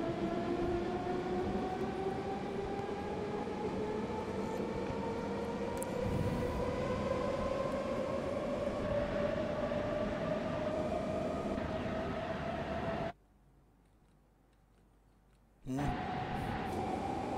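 A BR 420 S-Bahn electric train in Train Simulator runs steadily, its motor whine rising smoothly in pitch over a constant rolling rumble, with a brief silent gap near the end.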